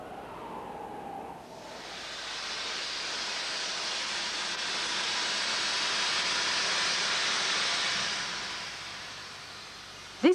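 A loud, steady hissing blast of an air-driven sandblasting jet cleaning stone starts after a brief tone and roars for about eight seconds, then cuts off with a short sharp sound.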